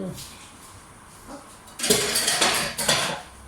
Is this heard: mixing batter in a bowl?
yes